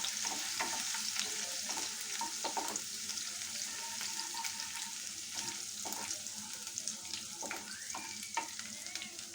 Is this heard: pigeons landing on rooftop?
no